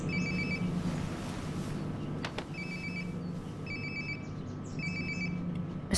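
A mobile phone rings in the video game Life is Strange: Before the Storm: repeated short electronic trill bursts in a steady pattern, fairly faint against a low background hum, with no talking.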